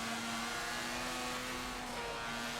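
A Mazda RX-7 engine in the racing game Forza Motorsport 7 drones at a steady, fairly loud pitch, with throttle held and balanced, in one continuous sound with no talking.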